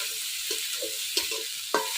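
Green chillies frying in hot oil for a Bengali double-dal khichuri, a soft steady sizzle with a few brief stirring scrapes and clicks, close and without talk.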